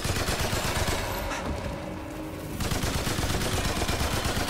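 Sustained rapid gunfire in Remnant 2, shooting at the Bloat King, a giant slime boss, in dense loud bursts that ease off for about a second near the middle, then resume at full volume.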